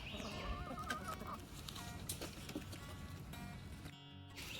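Chickens clucking and squawking nearby, a busy flock chattering over steady outdoor background noise.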